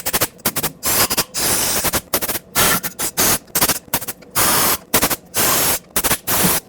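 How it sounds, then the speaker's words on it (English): Compressed air blowing out threaded bolt holes on a 2004-2009 Ford F-150 5.4L during an exhaust manifold job, a series of loud, close hissing bursts of varying length with short gaps between them. "make sure you blow these out with some compressed air"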